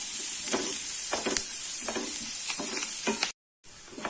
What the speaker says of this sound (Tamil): இப்போ பாருங்க வெங்காயம் நல்லா வதங்கிருச்சு